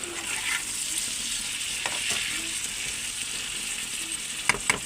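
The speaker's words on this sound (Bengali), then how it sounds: "আমি এটাকে ভালো করে কষিয়ে নেবো।" Tangra fish curry masala with potatoes sautéing in oil in a pan gives a steady, close hiss of sizzling throughout, with occasional soft scraping clicks of a spoon stirring and a few sharper knocks near the end; no voices.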